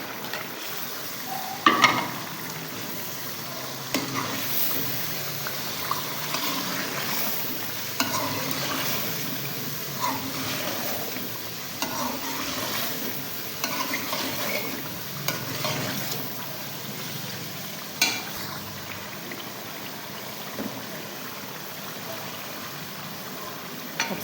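Chicken pieces frying and being stirred into masala in a pot for Pakistani-style aloo palak gosht, giving a steady soft sizzle with intermittent scraping stir sounds throughout, no talking.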